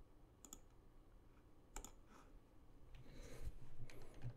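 A computer mouse clicking while working in a WordPress page editor, a few faint sharp clicks spaced apart in a quiet room.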